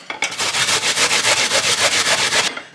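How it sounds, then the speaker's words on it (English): Onion grated on the small side of a grater, a loud, close, rhythmic rasping of quick even strokes, about a dozen, running steadily for over two seconds before stopping. "Okay, so you grate your onion."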